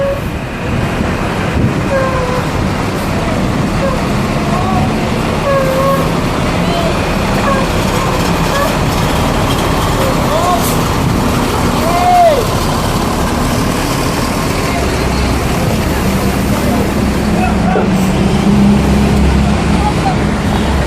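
Intercity buses arriving from Padang at a bus station, a steady loud engine rumble and idling drone that runs throughout, with people talking over it.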